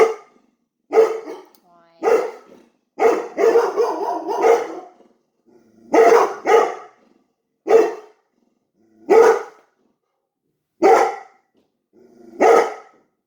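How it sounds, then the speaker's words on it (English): Dogs bark repeatedly in close, loud bursts and short volleys, some yips and growly notes mixed in, scattered across an indoor room with pauses between outbursts. "Sorry, my dogs are going a little nuts"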